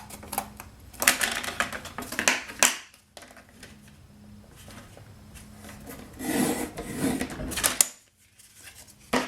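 Paper is cut with a paper trimmer and scissors, rasping, scraping strokes in several bursts, with brief pauses between them, close by and fairly quiet.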